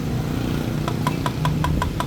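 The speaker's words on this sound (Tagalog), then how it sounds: "Kalog na yung engine bearing niya." A Sniper 155 motorcycle engine with a loose, worn engine bearing idles steadily, with a series of sharp, evenly spaced knocks ticking through the running drone near the end.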